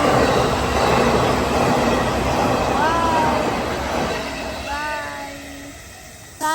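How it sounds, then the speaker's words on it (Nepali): A train rolls past near a river with a steady rumble and rattle, with high wheel squeals rising now and then before the noise slowly fades. "ट्रेन आयो"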